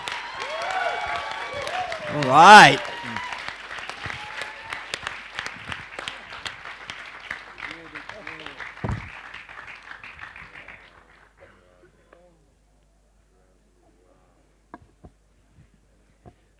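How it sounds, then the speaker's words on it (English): An audience applauds at a spiritual lecture for Reverend Michael during an international yoga festival, a steady wash of clapping under a speaker's voice that swells briefly, then tapers to a few scattered claps and silence. "Big round of applause for Reverend Michael."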